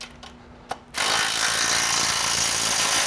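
Ratchet wrench tightening the bolts on a swing frame, a few faint clicks and then a loud, fast, continuous ratcheting rattle heard close up.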